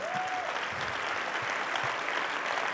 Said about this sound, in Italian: Un applauso a Oscar.